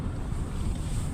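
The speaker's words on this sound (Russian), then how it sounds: "Ну что, там сильный ветер." Strong winter sea wind gusting at 15–20 m/s over waves near Veselovka, a loud, continuous roar of buffeting wind noise without pause.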